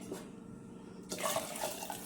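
Hot water pours suddenly into a pressure cooker holding rice, a quiet splashing gush that starts after a moment of near silence.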